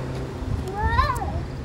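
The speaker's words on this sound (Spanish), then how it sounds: "Hay otro gato ahí." A cat meows once with a rising-falling call in a hilltop town known for its many cats, moderately close, over steady low background hum and some faint voice-like sounds.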